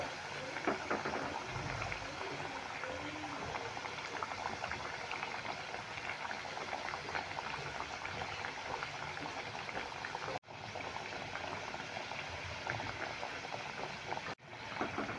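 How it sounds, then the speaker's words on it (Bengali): Continuous bubbling sizzle of sweet potato jalebis frying in hot oil, steady and close, with a couple of brief cutouts. "দুদিকটাই লাল করে ভেজে নিলাম"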